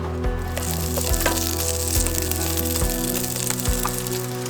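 Leftover Christmas ham fries in a pan with a steady, close sizzle and crackle, broken by a few soft low thumps, and no one speaks.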